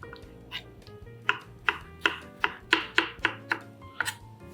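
A knife chops peeled garlic roughly on a board, with about ten sharp, evenly spaced thuds close up, each followed by a brief clatter, and no talking.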